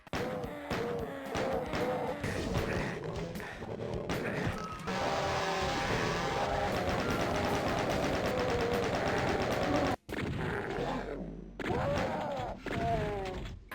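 Rapid weapon fire from the DOOM first-person shooter, dense bursts of shotgun-style blasts and explosions that run continuously and loudly, with a brief dropout before the firing resumes.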